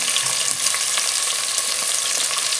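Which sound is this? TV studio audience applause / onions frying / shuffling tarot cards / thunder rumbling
onions frying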